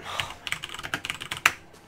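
Quick, close typing on a computer keyboard, a dense run of light clicking keystrokes with one louder key press near the end.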